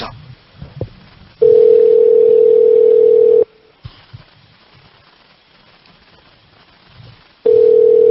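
A phone call to a 630 area code number rings out as two long, steady electronic ringback tones about four seconds apart. Faint rustling and muffled background noise fill the gaps between them.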